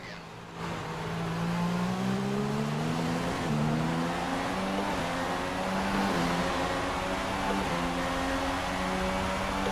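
Formula One race car engines in F1 2016, a steady high-pitched whine rising and dipping through gear changes, with other cars droning close by throughout.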